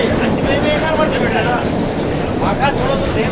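A Vistadome train runs on the Visakhapatnam–Araku line near a tunnel, giving a steady close rumble with a rhythmic wheel clatter throughout, while voices talk over it.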